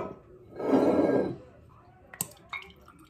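Amaretto pours into a jigger in a short gurgling splash lasting about half a second, followed by a couple of faint clinks, close and quiet in an otherwise hushed room.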